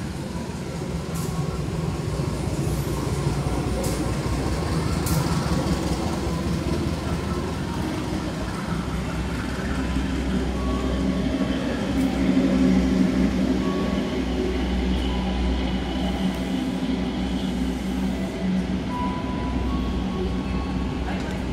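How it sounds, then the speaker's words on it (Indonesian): Bima executive passenger train with suite compartment cars rolling steadily past at a busy Jakarta station, a continuous near rumble and rail clatter with faint talk in the background. "Kereta api Bima dengan kelas eksekutif dan kompartemen suite"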